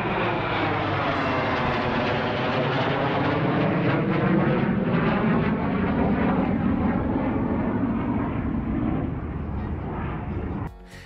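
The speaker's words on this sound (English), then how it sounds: "This fighter jet is flying above the clouds during a sunset" A fighter jet passes overhead with a loud, sustained roaring rush whose pitch sweeps downward as it goes by, cutting off abruptly at the end.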